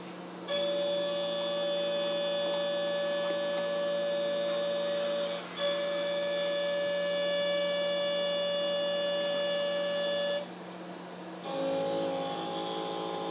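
A CNC machine cuts metal while machining new locomotive side rods, giving a sustained high tonal whine with several steady pitches that stops briefly twice and shifts to a different tone near the end, with no talking.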